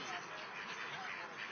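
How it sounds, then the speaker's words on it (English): Ducks quack repeatedly while a man feeds them outdoors. The quacks are moderately loud and continuous, set against a busy background of voices. "That one duck is pecking him."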